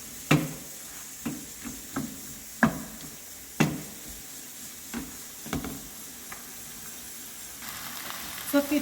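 Onion and chopped olive filling for chicken mini quiches cooks in a pan, giving a soft continuous sizzle broken by sharp clicks and scrapes of stirring at irregular intervals.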